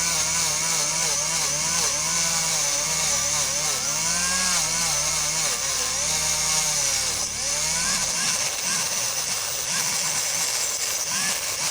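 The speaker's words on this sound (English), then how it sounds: "I'm going to go put my bristle disc back in, and we're going to add some shine to it" A rotary tool spins a bristle disc against electroformed metal to polish it, a loud high whine with wavering pitch as the disc presses on the piece, dropping to a rougher hum near the end.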